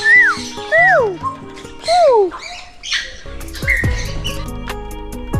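Several loud, sweeping squawks and whistles from macaws and parrots, coming in short bursts close by, at Safari Park in Gazipur, Bangladesh.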